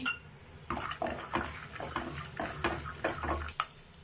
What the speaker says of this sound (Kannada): ಒಂದು ಸ್ಪೂನ್ ಸಾಸಿವೆ ಹಾಕ್ಕೊತೀನಿ ಅದ್ರ ಜೊತೆಗೇ ಒಂದು ಐದು ಇಸ್ಪೂನಷ್ಟು ಕಡಲೆ ಬೀಜ ಹಾಕ್ಕೊತೀನಿ